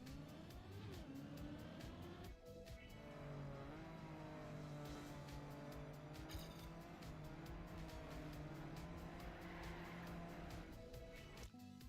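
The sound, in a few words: rally car driving in the video game Trackmania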